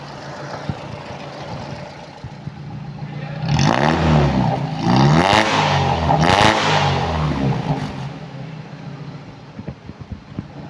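Toyota Corolla Twincam 1.6 from 1989 with a stainless steel exhaust, revving loudly in a few strong bursts over a steady idle, close by, with no talk.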